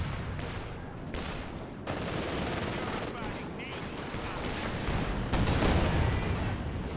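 Dense gunfire and artillery barrage in a Company of Heroes 2 match, with continuous loud overlapping shots, machine-gun bursts and explosions that build toward the end.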